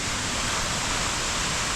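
Jang Falls, also called Nuranang Falls, in Arunachal Pradesh, pouring as a steady, dense roar of rushing water that fills the whole space with no pauses.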